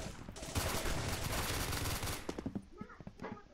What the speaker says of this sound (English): Submachine guns are my favorite. Like this, SMG9.